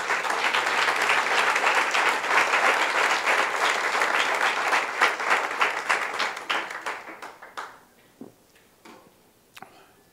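A church congregation at a worship service applauds loudly: dense, sustained clapping fills the room for about seven seconds, then thins into scattered individual claps and fades out, with no talking.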